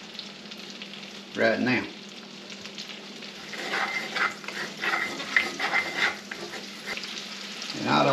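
White ends of bunching onions frying in a hot pan: a steady close sizzle with louder crackling bursts near the start and end, and brief words spoken partway through.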